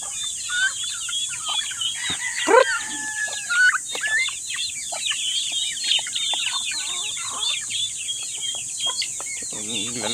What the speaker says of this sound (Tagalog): Ito ngayon yung aking mga alagang manok.